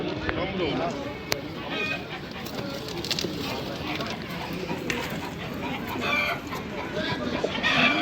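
Chickens cluck and a rooster crows amid a busy, noisy crowd of birds, with people talking throughout in the bustling outdoor Edirnekapı bird market in Istanbul.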